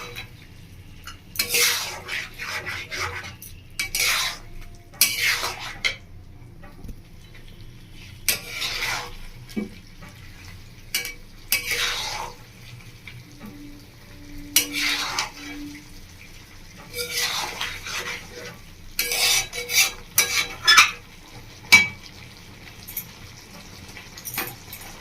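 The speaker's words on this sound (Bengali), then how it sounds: "ধনে বাটা আদা বাটা দিয়ে ভালো করে কষিয়ে নেব।" A spoon scrapes and clanks as chicken is stirred with coriander and ginger paste in a kadai, in bursts of metallic scraping and sizzle separated by quieter gaps, near and fairly loud.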